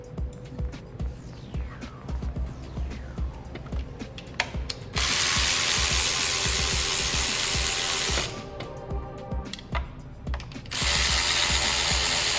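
A ratchet loosens the valve cover bolts on a 2015 Hyundai Sonata, close and loud, with repeated rapid clicking bursts, alternating with stretches of continuous whirring ratchet or tool noise.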